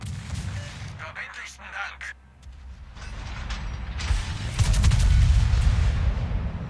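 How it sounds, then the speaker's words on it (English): Warship guns firing in a World of Warships naval battle: a deep, rumbling salvo swells up midway and lingers, with mechanical creaks and clanks earlier, under someone talking. "Shots out against the Fiji."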